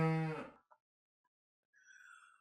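A single cow lets out a short, full-throated moo, loud and close, then fades into silence before a soft, high tonal chime rises near the end.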